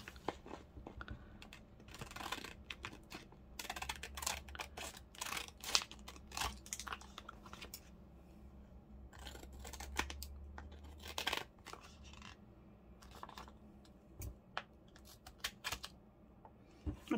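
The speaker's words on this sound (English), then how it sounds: "let me get some better scissors, sharper scissors out" Crisp snips and paper rustling come in irregular bursts, close and fairly quiet, with scattered crinkling between the cuts.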